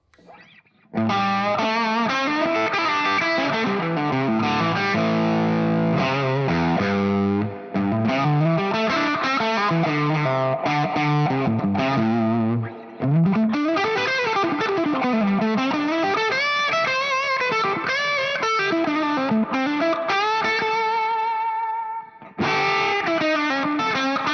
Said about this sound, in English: this is what it sounds like into the lead channel of the Two-Rock TS1